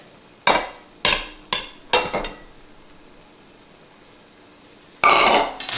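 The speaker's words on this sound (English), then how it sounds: "Now I just put some butter in here, so we're just going to kind of saute them." Vegetables sauteing in butter in a pan for steak fajitas: short bursts of sizzle and stirring scrapes come in a quick series of about five, then pause before a final louder sizzle.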